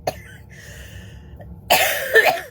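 A quiet pause, then one harsh, close cough from a person with a cold bursts out, followed by a brief second rasp.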